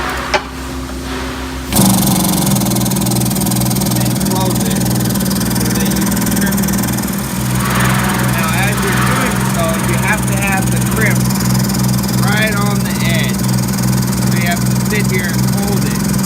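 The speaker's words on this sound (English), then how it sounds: "Sit here and hold it and watch it so that it crimps right in the right spot." A hydraulic crimper runs with a steady pulsing motor hum while crimping a fitting onto a hydraulic hose in an auto shop, loud and continuous after a short quieter start, with someone talking over it.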